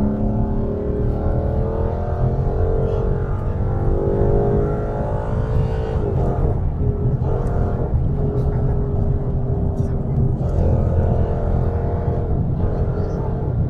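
The V8 engine of a 2016 Ford Mustang GT, driven in sport mode, roars loudly and continuously from inside the cabin, its pitch climbing through the gears, with occasional voices faintly underneath.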